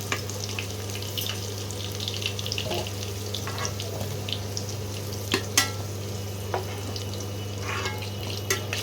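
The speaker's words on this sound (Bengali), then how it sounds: "আলুগুলোকে একটু লাল লাল করে ভেজে নিতে হবে" Potatoes fry in hot oil until reddish, giving a continuous bubbling sizzle under a low steady hum, with occasional sharp clicks and scrapes from stirring.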